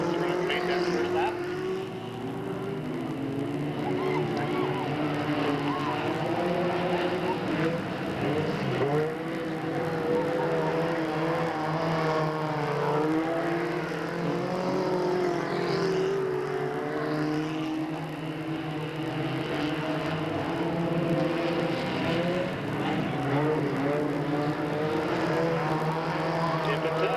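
Race cars lap Delta Speedway in 1997, their engines whining and rising and falling in pitch as they circle the track, with a commentator talking continuously over the roar.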